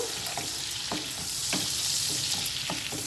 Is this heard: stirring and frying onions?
yes